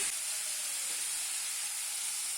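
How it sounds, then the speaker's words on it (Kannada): Ridge gourd, green chillies and curry leaves frying in hot oil give a steady, close hiss and sizzle that holds at even strength throughout, with no voice over it. "ಹಸಿ ಕರಿಬೇವನ್ನು ಸೇರಿಸಿಬಿಡಿ ಸೇರಿಸಿ ಎಲ್ಲವನ್ನು ಚೆನ್ನಾಗಿ ಹುರಿದುಕೊಳ್ಳಿ"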